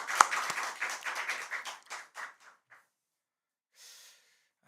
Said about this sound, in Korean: 찬양대 격려의 마음 담아 또 하나님께 영광의 박수를 함께 올려드리겠습니다